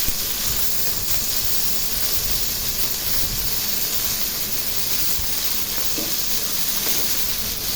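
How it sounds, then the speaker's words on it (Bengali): Rohu fish frying in oil in a pan, being turned over: a steady, dense sizzle and hiss runs throughout, close and loud, with no talking. "ভাজতেছি আর কি, সব উল্টায় পাল্টায় ভালোভাবে মাছটা ভেজে নিতেছি।"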